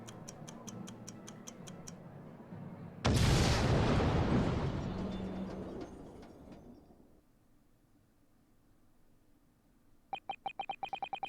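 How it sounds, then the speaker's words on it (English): A huge blast rips through the experimentation stage at the Great Exhibition in The Great Ace Attorney 2: Resolve, erupting as a loud roaring burst that slowly dies away, framed by steady mechanical ticking before and after. "the enormous explosion that ripped through the experimentation stage at the Great Exhibition"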